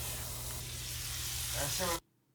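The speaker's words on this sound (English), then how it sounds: "we're also going to fry the Spam up in the bacon grease" Spam fries in bacon grease in a dirty pan, a loud continuous sizzle with some scraping that cuts off abruptly.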